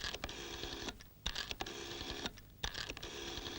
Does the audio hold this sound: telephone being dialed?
yes